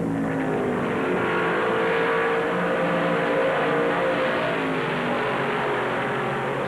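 NASCAR stock cars roar around Darlington Raceway at the 1977 Southern 500, a dense, continuous engine howl with rising and falling pitches as several cars pass, loud and sustained throughout.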